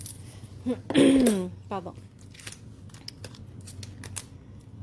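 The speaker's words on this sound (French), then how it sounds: "donc je prends mes ciseaux" Scissors snipping through paper during Stampin' Up! card making, a few quick close cuts and crinkles, with a brief spoken word in between.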